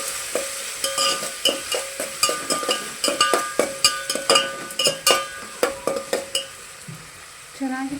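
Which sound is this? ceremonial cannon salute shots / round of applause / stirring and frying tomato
stirring and frying tomato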